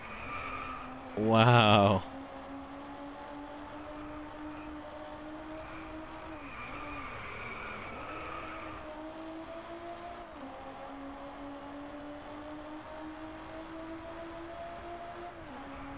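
A Lotus Elise in the Driveclub racing game drones along at speed with a steady engine whine that rises and dips, after a brief loud tire-squeal burst early on. Someone says a word.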